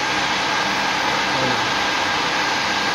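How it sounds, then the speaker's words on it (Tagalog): Turbo intercooler fan on a Mitsubishi Pajero Exceed with a 4D56 turbo engine, heard as a steady, loud, broadband whir that holds constant for the whole stretch with no pauses. "Yan yung turbo fan niya, ikot."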